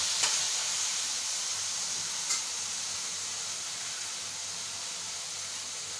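Finely chopped tomatoes tossed onto softened onions in a hot pan for a prawn masala gravy, giving a steady close sizzle with a couple of brief stirring scrapes.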